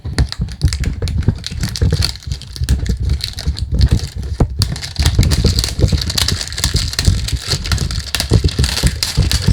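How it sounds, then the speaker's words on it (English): Cardboard perfume box being unboxed, with continuous close crackling, rustling and tapping handling noise throughout, fairly loud and busy. "Sorry about the noise when you do unboxing."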